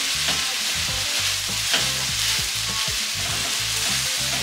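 Mauritian fried rice is stirred and tossed in a hot pan. A spatula scrapes and knocks in quick rhythmic strokes over a constant close sizzle of frying, with no talking.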